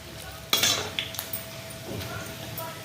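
Dried red chillies fry in hot oil in a pan, with a soft sizzle under sharp scrapes and clinks of a metal spoon stirring against the pan.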